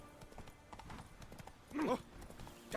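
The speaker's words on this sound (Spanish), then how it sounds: "Mi caballo ahora corre más" Horse hooves clip-clopping in The Witcher 3 on PS4, a soft steady patter of footfalls with a couple of louder thuds, no talk.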